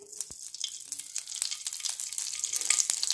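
Half a spoon of ghee sizzles in a pan over low heat, a soft hissing crackle with a few small pops, close and fairly quiet, growing slightly busier over a few seconds.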